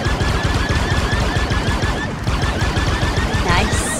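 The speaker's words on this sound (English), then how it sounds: "Oh, crap. They're shooting at us!" Rapid gunfire in the Star Wars game Outlaws: a dense, continuous run of loud blaster shots, closely packed and rhythmic, sustained throughout with a brief crash near the end.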